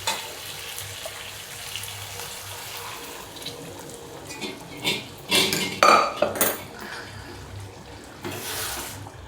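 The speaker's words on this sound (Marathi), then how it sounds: "झाकण ठेवते जरा." A lid is set down on a cooking pot of rajma simmering with added hot water, giving a few sharp metallic clatters near the middle over a soft steady kitchen background.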